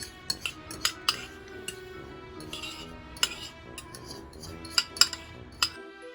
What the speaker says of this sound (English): mix together 1 cup of granulated sugar with 10 tablespoons of melted butter